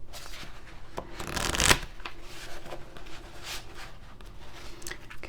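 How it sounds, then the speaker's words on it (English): A deck of trivia cards is shuffled by hand nearby, with soft riffling bursts and one louder riffle near the start, followed by quieter flicks and handling of the cards. "I have the whole deck of cards here. I'm gonna go ahead and shuffle those."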